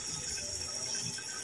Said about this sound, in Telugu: ఇక్కడ చూడండి వాటర్ బాయిల్ అవుతున్నాయి